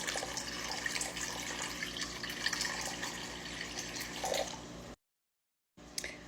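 Filtered water poured into a bowl for sourdough bread, a steady splashing pour that runs for about five seconds, stops briefly, then resumes with a short splash; close and moderately loud, with no talking.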